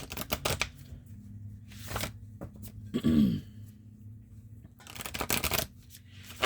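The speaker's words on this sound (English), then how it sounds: "Shuffling this archetype deck here." Archetype oracle cards are shuffled in quick riffling bursts, close and crisp, separated by short pauses and a soft low grunt in the middle.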